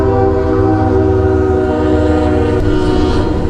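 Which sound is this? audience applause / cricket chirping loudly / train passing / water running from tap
train passing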